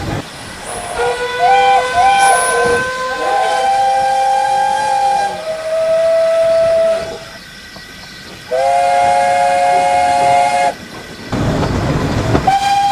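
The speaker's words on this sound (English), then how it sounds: "The engines punctuated the music with their whistles." Several loud steam locomotive whistles blow in long sustained blasts with short gaps, over a steady hiss of steam and rumbling rail noise.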